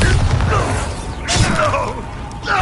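Bombarda blasting spell cast in Hogwarts Legacy, heard as a couple of close, sharp magical bursts with crackling impacts amid game effects, a voice shouting over it.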